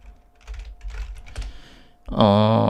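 Close clicking keystrokes on a computer keyboard come in quick irregular bursts while TypeScript code is entered, then a loud tonal sound cuts in and covers the typing.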